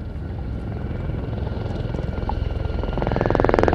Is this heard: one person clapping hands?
no